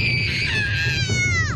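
A four-year-old girl screams in fear on a roller coaster, one long, loud, high wail that wavers and then slides downward.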